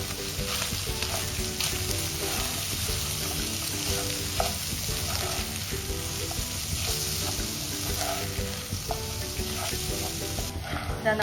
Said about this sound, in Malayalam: ആവശ്യത്തിന് കുരുമുളക് പൊടിയും കൂടി ഇട്ട് നമുക്കൊന്നുകൂടി മിക്സ് ചെയ്തെടുക്കാം.